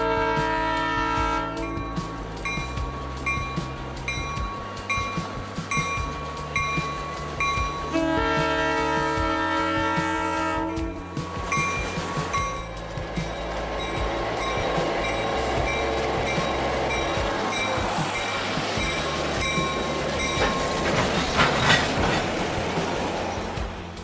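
A model grain train led by a GP7 with Athearn Genesis ACF 4600 three-bay hoppers runs on a layout, with repeated sound-equipped horn blasts, an idling diesel drone and rail clatter throughout.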